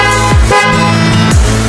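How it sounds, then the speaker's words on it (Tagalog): A loud Kia horn fitted to a Honda Click 125 scooter blares up close in rapid mode, with bright, brassy bursts repeating in quick succession, each ending in a short falling sweep. "nagkabit din tayo ng malakas na busina, Kia horn"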